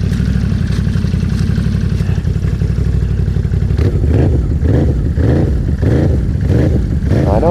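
Off-road vehicles from Can-Am and Polaris race on water, their engines roaring loud and close. The sound shifts from a steady buzzing drone to choppy bursts as the throttle is released.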